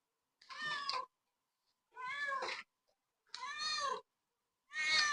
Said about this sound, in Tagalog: Itong pusang to.